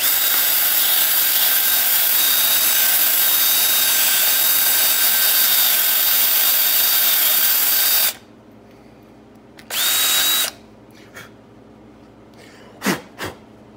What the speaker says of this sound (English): I just took one of these little abrasive pads and with a scissor I cut it down so that it fit the inside of the cap